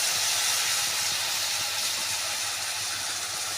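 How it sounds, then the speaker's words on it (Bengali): Tomato paste poured into hot oil already seasoned with turmeric, cooking for a spicy pabda fish curry, gives a steady broadband sizzling hiss that stays loud and even throughout with no talking. "তারপরে টমেটো পেস্ট করে রেখেছি, ওটা আমি ঢেলে দিচ্ছি।"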